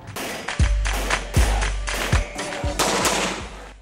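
Bursts of gunfire at the QCPD police firing range in Camp Karingal: about five loud, sharp shots spaced roughly every three-quarters of a second, each with a booming low thump and ringing tail, set against steady range ambience.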